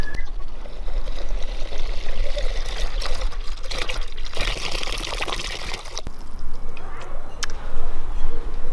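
Mineral water pouring into a bottle while making elderflower champagne, a loud, close, continuous splashing trickle with bubbly gurgles that shift in pitch as the bottle fills, running the whole time without a break.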